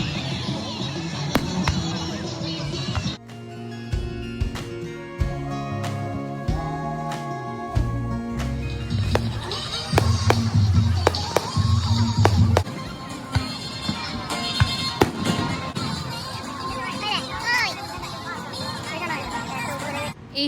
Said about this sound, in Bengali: চলো এবার তাহলে এই ফায়ার ওয়ার্ক দেখা যাক।